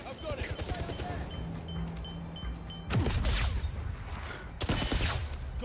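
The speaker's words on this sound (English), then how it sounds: "Who's shooting at me?" Gunfire in the video game 007 First Light erupts in sharp bursts and rapid volleys under a busy mix of game sounds, loud and close, with a voice talking over parts of it.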